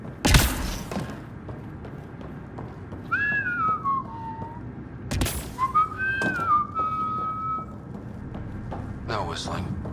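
Two short whistled phrases in the video game Mass Effect Andromeda, each a rising then falling tune, set between loud thuds and bursts of noise.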